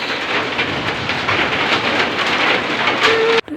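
Steady rain hisses loudly and evenly for several seconds, a dense wash of sound that cuts off abruptly near the end.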